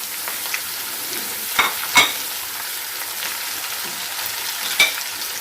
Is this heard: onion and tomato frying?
yes